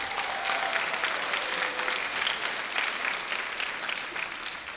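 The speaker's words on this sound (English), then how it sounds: "Let's give them a round of applause, please." An audience gives sustained applause at a high school band's spring concert, a dense, even wash of clapping from a crowd lasting throughout.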